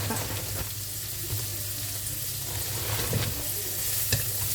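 Garlic and onion frying in a pan, a steady broadband sizzle that holds at an even level throughout, with faint stirring scrapes and small knocks underneath.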